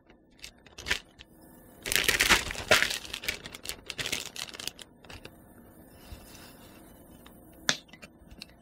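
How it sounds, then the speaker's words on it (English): A plastic bag of chicken wings and seasonings crinkles and rustles in a kitchen, with a dense burst of handling in the middle and scattered sharper crackles after it, close and fairly loud. "We're gonna use a plastic bag"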